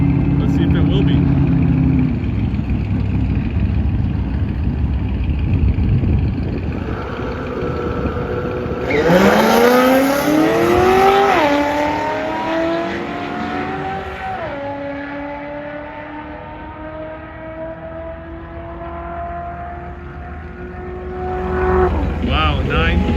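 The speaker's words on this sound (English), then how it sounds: "Race 2, Corvette versus Tesla Plaid. That Plaid should be a 9-second car." Corvette versus Tesla Model S Plaid drag race, heard as a loud engine roar climbing through several gear shifts in rising and dropping sweeps, with a hiss at launch, fading as the cars pull away, with talk underneath.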